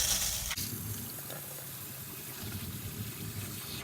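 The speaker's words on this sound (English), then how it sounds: "I'm going to just super saturate it with water before we start shampooing" Water runs from a salon shampoo bowl sprayer onto a client's hair to soak it, as a steady close rushing flow with a brief knock near the start.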